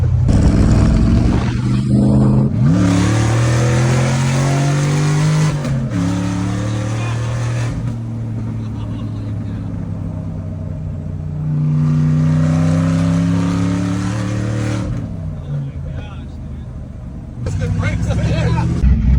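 A 7.3 Godzilla V8 in a Dentside Ford truck revs and pulls hard through several gear shifts, a loud close engine note rising in repeated surges with brief drops between them.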